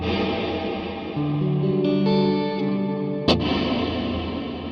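Sustained guitar notes ring out through a lush, dark reverb from a Black Country Customs Secret Path pedal, layering into a chord before a sharp pluck cuts in and the wash lingers.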